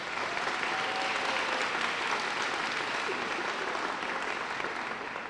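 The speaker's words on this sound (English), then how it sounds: "Let's give them a big round of applause one more time." A school dedication audience breaks into a big, sustained round of applause, dense and even clapping from a sizeable crowd filling the whole stretch without any speech.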